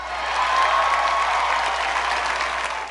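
Applause from the crowd at a Trump speech, a broad, sustained roar of clapping that swells early and holds steady, loud and unbroken, with no speech over it.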